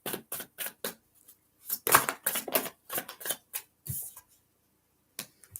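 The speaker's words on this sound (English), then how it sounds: "Let's give it a couple good shuffles" Light Seer's tarot cards being shuffled by hand in irregular bursts of crisp riffling and flicking, close and fairly quiet, with short pauses between groups and a final few flicks after a gap.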